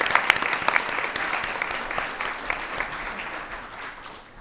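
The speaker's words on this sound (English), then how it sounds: "And a round of applause for New Hanover." An audience at a board of education meeting claps steadily for New Hanover High School cadets, dense applause filling the room and slowly tapering without any talk.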